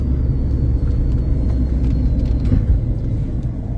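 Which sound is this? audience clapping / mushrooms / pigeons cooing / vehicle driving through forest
vehicle driving through forest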